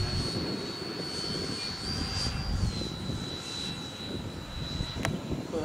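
A Freewing EDF radio-controlled jet lands with the wind after dropping its gear, a steady high electric ducted-fan whine over rumbling ground noise and wind, heard from a moderate distance with no talking.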